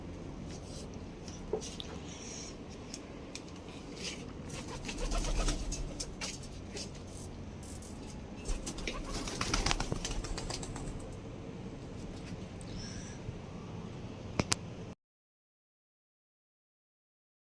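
A pigeon on a home balcony coos softly amid steady background hiss and scattered clicks, with a few louder rustling bursts partway through.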